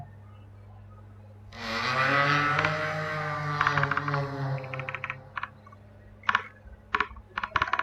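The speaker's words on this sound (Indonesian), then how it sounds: "Suara keyboard." A loud tonal whoosh swells and fades, then scattered keyboard key clicks tap out in irregular bursts, close and fairly quiet.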